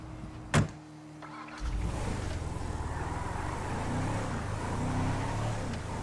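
A car engine idling and pulling away in the GTA V mission The Civil Border Patrol. A sharp clunk comes first, then a steady low motor drone that builds slightly as the vehicle sets off.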